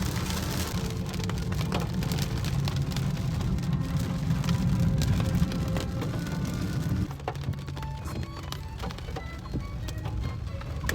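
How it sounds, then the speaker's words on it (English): Heavy, chilly rain pours steadily onto surfaces nearby, a dense continuous patter with scattered sharper drops, softening slightly toward the end. "Instead, it's pouring rain and fairly chilly."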